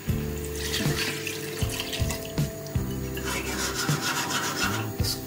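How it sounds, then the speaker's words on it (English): Water pours into a cooking pot of cow skin and beans, a continuous rushing splash with scraping and rubbing noises on top, close and moderately quiet. "So I'm gonna just pour this water in now."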